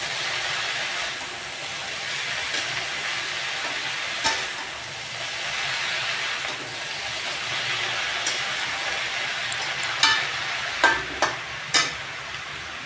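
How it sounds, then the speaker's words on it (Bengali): Leafy greens frying in a kadai for a Bengali shak bhaji, a loud steady sizzle throughout, with a few sharp scraping clinks from stirring, clustered toward the end; no voices. "তো আমাকে এখন নাড়তেই থাকতে হবে যাতে শাকটা না লেগে যায় কড়াইয়ের সাথে।"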